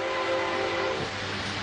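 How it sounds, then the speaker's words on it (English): A toy model train runs on its tracks with a steady rumble and a sustained whistle-like tone that fades about midway, heard as if played back from a video. "they're showing a little train go on the tracks"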